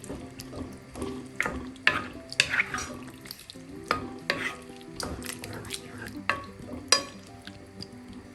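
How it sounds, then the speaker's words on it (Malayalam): A spoon scrapes and clatters around a pan of potato masala curry just after water has been added, making repeated wet stirring strokes with soft sizzling underneath, close and clear with no talk. "വെള്ളം ചേർത്തൊന്ന് ഇളക്കി"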